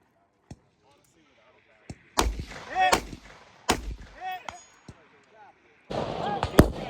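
Rifle gunshots at a 200-yard shooting match stage, sharp isolated reports spaced irregularly, some near and loud with echoing tails, under occasional talk and a burst of background noise near the end.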